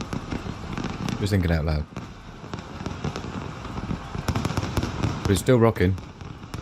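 New Year's Eve fireworks pop and crackle in a scattered, distant barrage, with bursts of sharp bangs, while someone talks over them.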